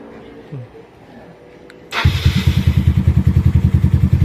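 A motorcycle engine, started by remote switch, catches after a quiet moment with faint talk and then idles loudly nearby with a steady, pulsing throb.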